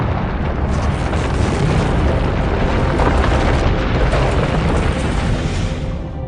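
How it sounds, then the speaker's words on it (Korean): A dense, continuous roar of rumbling, bubbling noise from an undersea volcanic eruption, steady and loud throughout with no break. "해저 화산 폭발도 잇따랐죠"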